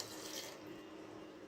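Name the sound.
water poured into cooking pot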